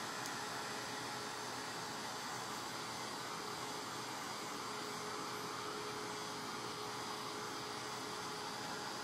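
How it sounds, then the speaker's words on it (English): Small handheld heat drying tool blowing over a blue glass container, a steady airy whoosh held at constant level for the whole stretch with no pauses. "I've got a little heat drying tool here."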